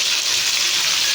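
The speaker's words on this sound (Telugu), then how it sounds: "రాళ్ళుప్పు వేసుకొని ఒక 2 నిమిషాలు ఈ వంకాయలని ఆయిల్లోనే వేయించుకోవాలి." Whole eggplants fry in oil with mustard seeds and cumin, a loud bright continuous hiss with no pauses, heard up close.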